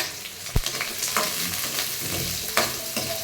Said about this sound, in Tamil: இப்போ வெங்காயத்தை போட்டுக்கலாம் வெங்காயம் பூண்டு இஞ்சி வரமிளகாய் மூணு போட்டுக்கலாம்